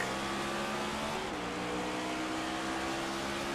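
A race car in a racing video game brakes hard for a chicane, its engine droning loudly and steadily before the pitch drops as it slows, with continuous engine noise throughout.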